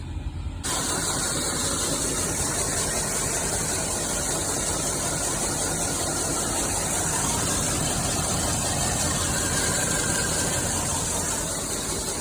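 A fertilizer filling machine for a seed drill runs steadily and loudly, a dense mechanical whirring and rattling hiss that starts abruptly and continues without a break, with no talk over it.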